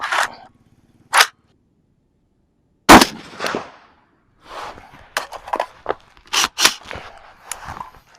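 Several sharp, loud gunshots crack out one after another at irregular intervals, each with a brief echoing tail, with quieter clatter and movement between them.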